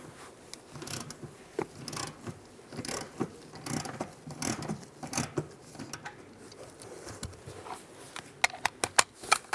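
A socket ratchet works a bolt loose at the antenna base of a 2007-2013 Chevrolet Silverado, giving close, repeated light clicking and metallic ticks in uneven bursts, with sharper clicks near the end.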